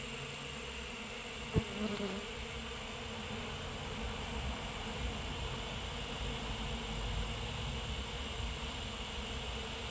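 Bees from a poisoned hive inside a wall buzz continuously in a steady, dense drone, close and constant, with a single sharp knock early on.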